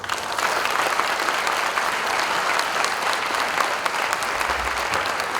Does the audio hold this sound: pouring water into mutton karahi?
no